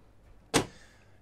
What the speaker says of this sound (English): I'll just shut this door here.